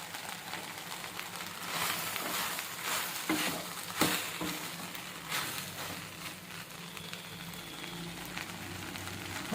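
Okra sizzles and fries in a pan while being stirred, steady crackling with scraping and clinking utensil strokes throughout, close and moderately loud, no speech.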